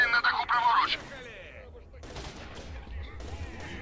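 Video game gunfire from S.T.A.L.K.E.R.: Shadow of Chernobyl crackles loudly in a rapid burst at the start, then scattered distant shots and thuds continue more faintly.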